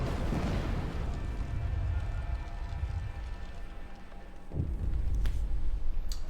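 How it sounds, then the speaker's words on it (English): A deep rumbling boom and roaring burst from an exploding generator core in the city-survival game Frostpunk, layered with sustained low roaring and crackling and a few sharp cracks near the end. "Sound of explosion comes from the generator."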